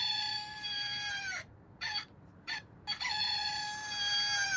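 A cockerel crows with a loud, drawn-out cock-a-doodle-doo, broken by short gaps and then resuming, close and clear against a quiet background.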